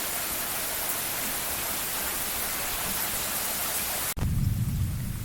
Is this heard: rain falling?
yes